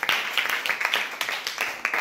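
A group of students claps together during a school quiz, a quick rhythmic patter of many hands that is close and fairly loud and continues steadily for a couple of seconds.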